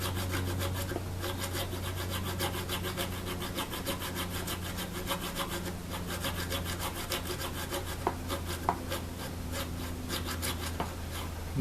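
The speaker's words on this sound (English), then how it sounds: "I'm just going to keep sawing until my saw hits the feeler gauge" A hand saw cuts a string slot in a guitar nut down toward a feeler gauge, giving continuous close rasping strokes in an even rhythm, with a faint low hum underneath and no speech.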